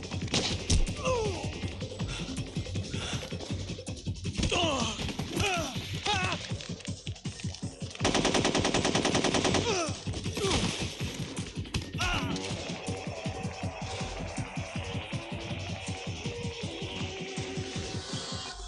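Gunfire in a Metal Gear video game, sharp repeated shots and impacts mixed with crashes and clatter, with a dense sustained burst in the middle, loud and busy over game sound.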